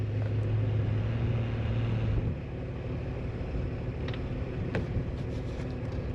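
Off-road vehicle climbing a snowy dam, a steady low engine drone heard from inside that drops slightly in level partway through, with faint clunks and wind.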